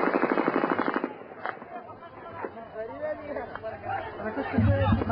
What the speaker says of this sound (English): They fire grenades, they go way over.